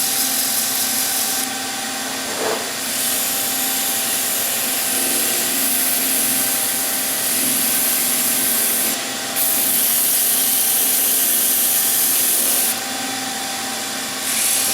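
Sandpaper at 240 grit rubs against a natural edge wooden bowl on the lathe, a steady close hiss with brief louder scratchy bursts as the pressure shifts.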